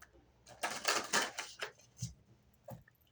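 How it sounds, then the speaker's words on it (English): Tarot cards being shuffled in a few quick riffling bursts followed by soft taps and shuffles, faint and close-miked in a quiet room. "One more shuffle."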